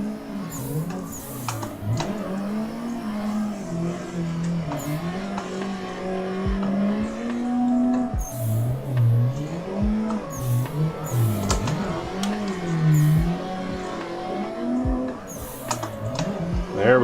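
Drift car engine in the Assetto Corsa racing game, revving up and down in continuous wavering pitch sweeps with brief tire-squeal bursts, loud and steady throughout.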